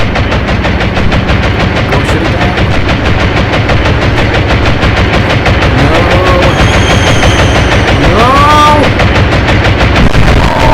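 Naval guns fire in continuous rapid bursts during a Royal Navy versus Kriegsmarine battle in the game Atlantic Fleet, a loud unbroken rattle of shots with rising whistles and sirens over it.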